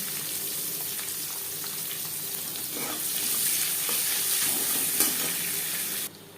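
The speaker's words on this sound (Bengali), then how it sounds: "20-25 সেকেন্ড ভেজে নেওয়ার পর দিয়ে দেবো পেঁয়াজ।" Chopped onion frying in hot oil with whole cumin seeds, giving a steady, close, loud hissing sizzle that swells slightly midway, with faint stirring scrapes.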